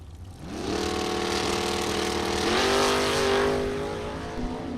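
Jim's 1980 Chevrolet Malibu drag car makes a pass at a drag strip, its engine note climbing through the gears with rising pitch. A brief shift dip comes midway, and the roar stays loud with no talk.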